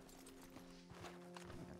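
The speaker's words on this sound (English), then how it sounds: "you want to call your horse" Horse hooves clip-clop in Red Dead Redemption Online as a mount is brought up near a stable, a short run of soft, fairly close hoof steps over a steady tonal background.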